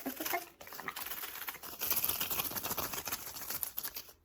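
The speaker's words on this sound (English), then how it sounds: "So here's my beautiful heart-shaped box that contains all of our special tea tags. And I will shake." Paper tea tags shaken inside a heart-shaped box give a quick, dense rattling patter, close and fairly soft, with no talking.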